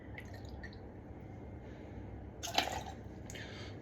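Gazpacho water poured into a cocktail glass, a quiet trickle and a few small drips and splashes, with a brighter splash of liquid near the end.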